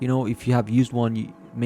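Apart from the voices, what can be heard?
No everyday noises stand out.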